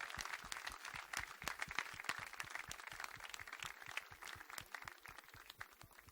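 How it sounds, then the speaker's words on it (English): Faint, sparse clapping from a conference audience giving children a standing ovation, individual claps spaced irregularly and distinctly rather than merging into a dense roar, quiet and somewhat distant. "Can I request you all to stand up and give these children a standing ovation,"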